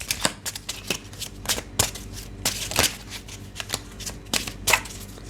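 Repeated crisp riffle-and-snap bursts of tarot cards being shuffled close by, in quick irregular rounds with brief pauses between them, no voices.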